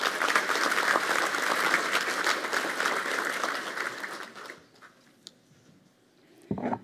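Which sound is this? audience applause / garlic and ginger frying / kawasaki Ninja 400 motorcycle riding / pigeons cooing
audience applause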